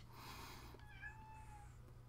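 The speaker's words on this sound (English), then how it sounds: "There's my kitty cat Snowball" A pet cat indoors gives a single drawn-out meow, quiet and fairly close against a low steady room hum, with no talking.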